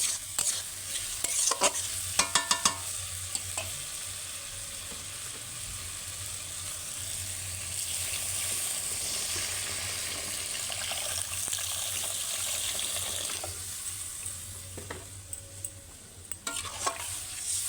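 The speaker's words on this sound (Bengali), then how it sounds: "এবার আমি জল ঢেলে দেবো" Water poured into a pan of frying potatoes, producing a loud, continuous sizzle and hiss with clinks of a utensil near the start and end.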